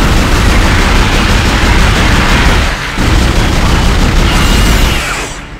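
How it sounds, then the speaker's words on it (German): A machine-gun-style weapon in Dead Space fires in a dense, continuous roar of bursts lasting several seconds, with a brief gap midway, before tapering off. "es ist also eine Art Maschinengewehr hier"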